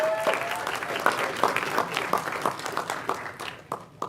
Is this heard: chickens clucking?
no